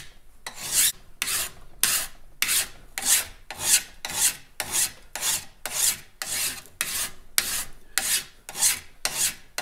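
A chainsaw chain clamped in a vise is sharpened by hand with a file, giving a steady series of rasping strokes at an even rhythm, close and clear with no talking.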